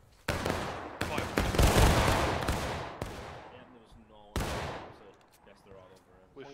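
A company's volley of musket-style gunfire rings out at a group training event, several sharp loud shots in quick succession, then a second burst with echoing tails and voices under the quieter stretches.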